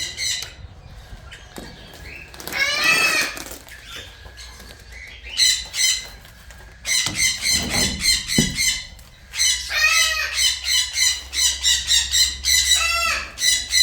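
Parrots squawk loudly in a bird garden during a morning feeding, with repeated harsh, close calls in bursts, some overlapping into a dense chorus, and occasional wing flaps and rustling between them.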